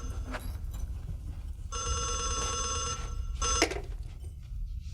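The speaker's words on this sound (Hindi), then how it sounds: "देखो बेटे फ़ोन" A home telephone bell rings in a sustained, loud burst, then stops and rings briefly again, with room noise around it.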